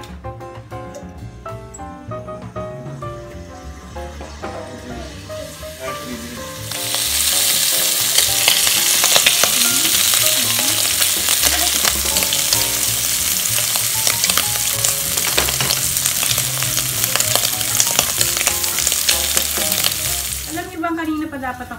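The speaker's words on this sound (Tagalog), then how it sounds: "With the same pan, lagyan natin siya ng konting oil. Then we're going to fry the beef." Beef strips hit hot oil in a pan and break into a loud, steady sizzle that holds for several seconds before dropping away, with quieter kitchen noise and a little background talk before it starts.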